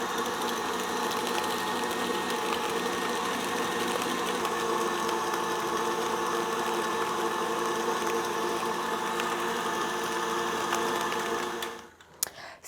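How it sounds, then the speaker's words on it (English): An electric mixer with a whisk attachment running on high while whipping buttercream for a pumpkin pie spice cake, giving a steady whirring motor drone for about twelve seconds before it shuts off. "I'm going to put it on about high, so that way it whips a lot of air into it, hence the whisk attachment."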